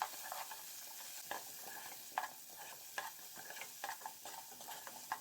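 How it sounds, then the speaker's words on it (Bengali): Chopped cauliflower fries on a low flame with salt and turmeric, a quiet, steady sizzle broken by repeated light scrapes and clicks of the spoon stirring in the pan, faint and close. "এবার দিয়ে দিচ্ছি কেটে রাখা ফুলকপিগুলো। চুলা লো ফ্লেমে রেখে ফ্রাই করে নেব।"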